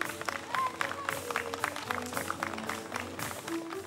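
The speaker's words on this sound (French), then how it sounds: "On va applaudir pour le motiver un peu" Applause from an audience at a French animal park event, meant to encourage a child, heard as a steady mid-level patter of clapping mixed with crowd murmur and some talking throughout.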